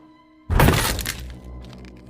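Bus window glass shattering as a head slams into it in a film scene: one sudden loud crash with a bright burst of breaking glass, then a short rumbling tail fading under a quieter background.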